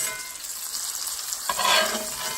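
Meat sizzles and crackles in a hot pan while being basted, a steady frying hiss that turns livelier as the fat is spooned over partway through, close and without talk.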